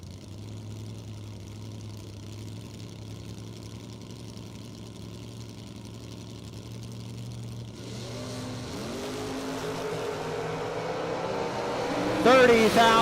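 A Chevy II and a Camaro at a bracket drag race idle with a low, steady rumble, then the engines build and rev louder toward the end, with an announcer talking over them.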